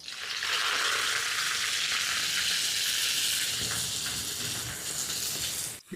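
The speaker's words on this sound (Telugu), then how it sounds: "ఇప్పుడు స్టవ్ సిమ్లో పెట్టుకొని గోంగూరని 5 నిమిషాల పాటు వేపుకుందాం." Gongura (sorrel leaves) frying in oil in a kadai over a low flame, a loud steady sizzle and hiss that holds nearly six seconds before cutting off abruptly.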